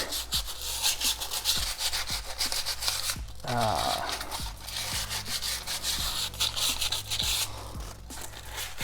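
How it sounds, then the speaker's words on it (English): A sanding block scrapes back and forth against a metal wheel hub on a BMW F10 M5, cleaning off rust, in quick, rhythmic strokes, close and fairly loud, with a brief pause partway through. "You take a sanding block"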